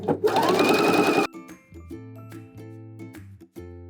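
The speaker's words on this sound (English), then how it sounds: "So I'm ready to sew my 1/2 inch seam, and don't forget the back stitch." A sewing machine stitches a half-inch seam while letting out a tight dress, racing in a loud continuous burst before settling into short pulsed runs of stitches with back-stitching, close and alone.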